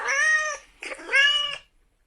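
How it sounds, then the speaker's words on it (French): A house cat meows twice at close range, each call drawn out and loud, with a brief pause between them and silence after. "j'ai actuellement mon chat qui est juste là"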